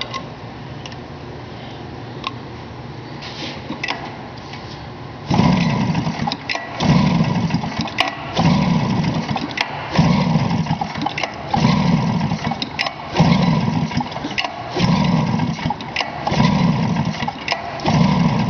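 A 1996 Polaris XCR snowmobile engine is cranked over for a compression test, giving a quiet ticking start and then a loud, steady rhythmic chugging of the turning engine lasting several seconds, close and without talk.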